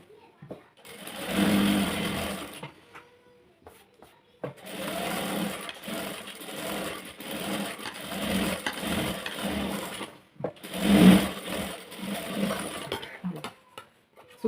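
A sewing machine runs in several bursts, stitching around the lining and main fabric of a sleeve, its rapid motor whir stopping and starting between pauses while a person talks over it.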